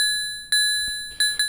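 Modular synthesizer patch producing bell-like, glassy tones: three struck notes with sharp attacks and long decaying rings, the last two close together.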